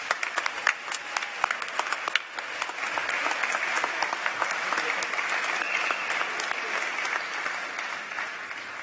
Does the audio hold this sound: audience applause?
yes